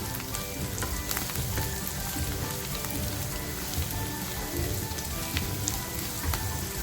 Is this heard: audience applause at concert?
no